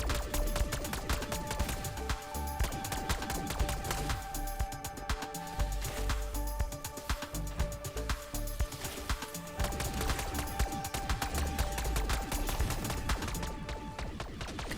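Gunfire from Call of Duty's Terminus map as a player shoots at spawning spores, with repeated sharp shots and bursts over a dense, loud game soundtrack and effects that run the whole time.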